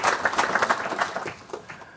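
Audience applause at an investor show in London, a steady patter of many hands clapping that holds for about two seconds and thins slightly toward the end, with no voices over it.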